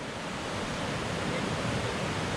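The Dudhi river rushes under a wooden bridge, a dense and steady broadband roar of flowing water with wind-like hiss throughout, close and continuous.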